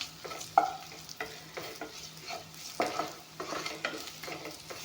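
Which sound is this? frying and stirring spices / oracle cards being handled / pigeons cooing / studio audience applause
frying and stirring spices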